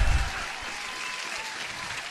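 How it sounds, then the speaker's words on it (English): A burst of crowd applause, loud and even, a short wash of many clapping hands with a low thump at the very start and no voices over it. "Let me give you an applause."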